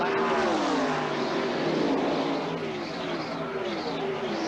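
Stock cars roar past at the 1985 Daytona 500, a dense, continuous engine howl with pitch sweeps as the pack passes in front of a huge crowd, loud and sustained throughout.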